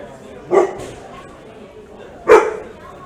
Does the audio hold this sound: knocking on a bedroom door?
no